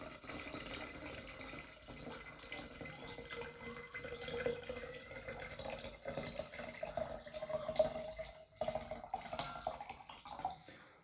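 Water runs steadily into a tank at low to moderate level for about eleven seconds, a continuous splashing fill with no talk, during a demonstration of a water level indicator for an underground tank.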